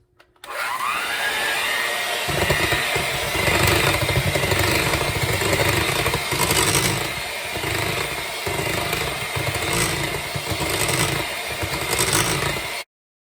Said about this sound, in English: Then with an electric mixer, you stir it on medium-high settings for 1 minute.